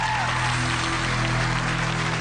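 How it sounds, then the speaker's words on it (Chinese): A studio audience at a televised singing talent show applauds in a dense, continuous wash of clapping, with a steady musical hum underneath. "掌声再次鼓励"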